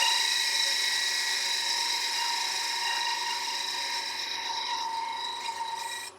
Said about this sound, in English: So we'll get this little guy parted off. I always undercut them a slight little bit with the parting tool.